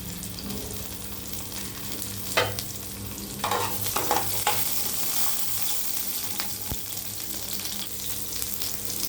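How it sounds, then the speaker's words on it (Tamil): Small shallots sautéing in a little oil in a pan for a chutney, a steady soft sizzle with occasional stirring scrapes and clinks, close and moderately quiet, no talking. "சின்ன வெங்காயத்தை எல்லாத்தையும் போட்டு நல்லா வதக்கணும்."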